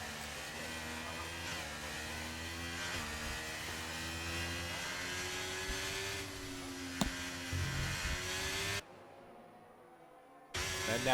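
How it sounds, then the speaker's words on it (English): A race car accelerates flat out down the straight during the Netherlands round of a racing series, its engine note rising steadily in pitch, faint and continuous, then cutting out briefly before resuming. "J-Met will narrowly miss the Alpine and go foot to the floor towards the line, and down the straight he heads"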